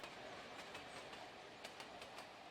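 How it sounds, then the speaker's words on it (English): A train running in the video game Mashinky makes a faint, steady rolling rumble, with soft rhythmic clicks of wheels over rail joints and no voices. "hopefully our train should be able to go now anyway"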